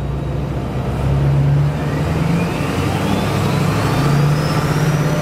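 Duramax diesel pickup truck engine held at a steady fast idle around 1500 to 2000 RPM, a continuous close-up drone with a slight rise and wavering pitch throughout, no voices.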